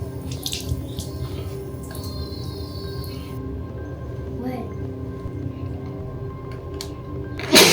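Tap water runs steadily into a bathroom sink while someone wets their face, with a continuous close splashing flow and a brief louder burst near the end.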